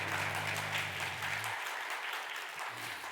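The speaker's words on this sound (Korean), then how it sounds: "박수" A church congregation at a Sunday service claps for graduates, a full wash of applause with a low organ or keyboard chord fading out partway through.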